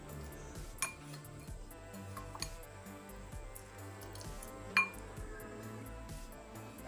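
A spoon mixes paneer with garam masala and cumin in a bowl, giving light, scattered clinks and taps of metal on the bowl, with one sharper knock, over a quiet kitchen background.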